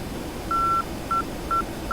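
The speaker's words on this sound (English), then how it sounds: "Still getting the Morse code" A TACAN Morse code identifier in the F-5E Tiger II cockpit of DCS World, heard as a clean steady beeping tone: one long dash followed by three short beeps, clear over a quiet low cockpit hum.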